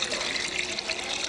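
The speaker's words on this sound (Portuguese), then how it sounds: "Você põe 1 litro de água" Water pours steadily into a pan for a candied pineapple syrup, a continuous close splashing and gushing flow with no voices over it.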